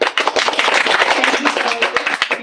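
An audience claps for successful nursing students, a dense burst of rapid, close, loud applause that fades at the very end.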